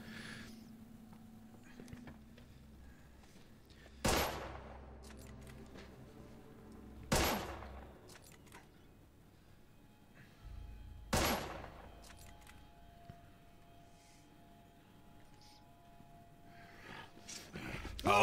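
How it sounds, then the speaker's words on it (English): Suppressive gunfire in The Order: 1886 comes as three sharp, loud shots spaced several seconds apart, each with a ringing decay, over quiet ambience. "Some suppressive fire."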